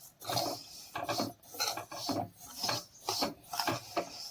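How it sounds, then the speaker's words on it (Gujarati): Sesame seeds for a mouth freshener stirred continuously in a pan over a low flame, giving repeated rhythmic scraping and rasping strokes, fairly close and steady with no talk. "આવી રીતે આપણે ધીમા ગેસે સતત તેને મિક્સ કરીશું હલાવતા રહીશું"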